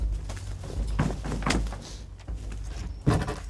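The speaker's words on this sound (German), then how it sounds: "Tür ist open." The door of an isolated barn is pushed open during a police check, giving several hollow wooden thunks and scraping knocks, close by, with a final heavier bump.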